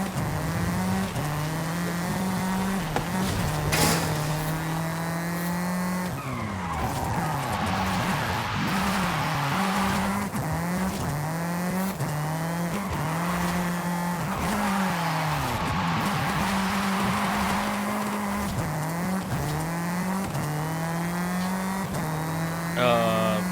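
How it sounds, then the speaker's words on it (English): Ken Block's Ford Fiesta rally car in Forza Horizon 5 races on and on, its engine revving and shifting through gears with tires skidding, loud and continuous. Faint talk sits under the engine. "Now we literally have Ken Block's Dirt 3 car here."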